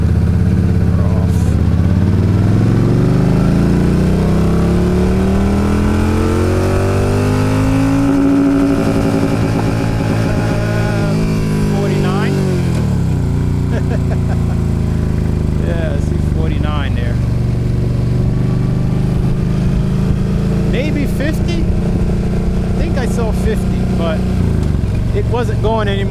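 A Yamaha V-Star 1300 motorcycle revs and accelerates in first gear, its engine pitch climbing and falling loudly and close with steady wind rumble, while a rider talks over it at times.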